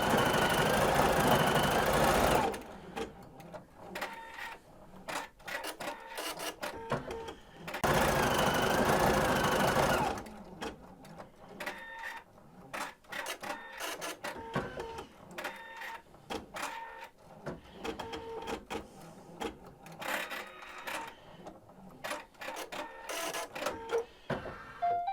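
An embroidery machine stitches a design with fast, mechanical, printer-like chattering and clicking, steady and close. It runs in loud bursts with brief pauses between them.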